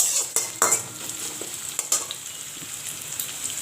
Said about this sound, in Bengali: পেঁয়াজটা ভাজা হয়ে গেলে, পেঁয়াজটা হালকা নরম হয়ে আসবে